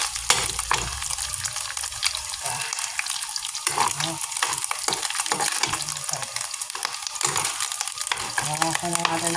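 Hot cooking oil sizzles steadily in a pan for pancit bato, a loud bright crackling hiss that runs without pause, with occasional soft clinks and stirring scrapes close by.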